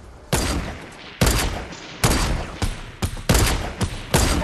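Repeated gunfire in a Fortnite squads match, with sharp loud shots and bursts arriving in an irregular rhythm about every half second to second, each leaving a short decaying tail.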